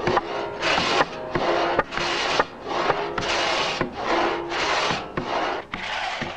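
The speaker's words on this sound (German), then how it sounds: "Da die Säge nur auf Zug, also beim Niederfahren schneidet, wird sie beim Heraufziehen geringfügig vom stehenden Holz abgehoben." A two-man crosscut saw cutting standing timber, with rhythmic rasping strokes of wood cut in a steady back-and-forth pattern, about eight strokes, close and clear with no talk.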